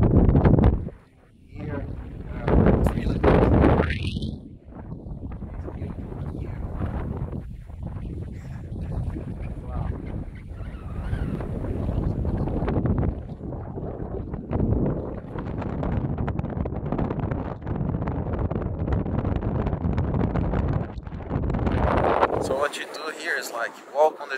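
Strong wind on the sand dunes of Lençóis Maranhenses, Brazil, buffets the microphone in loud, roaring gusts that rise and fall, with a brief lull early on. Someone is also talking over it.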